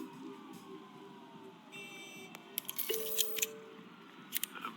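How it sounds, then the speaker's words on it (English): Police car sirens sound in the Batman Telltale video game. Faint, wavering tones drift in the distance beneath a low ambient hum, while sharp clinks and scattered rattles are heard closer in. No one speaks. "There are quite a few police cars convening on your location."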